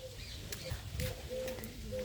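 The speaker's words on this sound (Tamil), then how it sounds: "வாவ், இங்கே பாருங்கள் புறா." A pigeon coos at a zoo in Al Ain, soft low repeated notes at a moderate distance over outdoor background noise.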